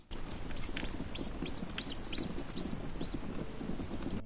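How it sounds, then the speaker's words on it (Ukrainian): Rapid high-pitched peeping chirps of Muscovy ducklings inside hatching eggs in an incubator repeat over a steady rustling background, in quick irregular succession. "кожного разу, коли яйця починають пищати"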